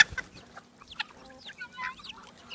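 Chickens clucking softly on a farm property, scattered short calls at moderate distance, fairly quiet with gaps between clucks.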